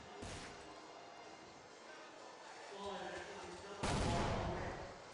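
A grenade in Counter-Strike: two sharp loud bangs, one near the start and one near the end, with a commentator talking over the gunfire and game noise between them.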